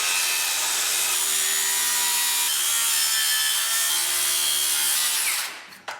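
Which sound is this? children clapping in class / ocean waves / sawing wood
sawing wood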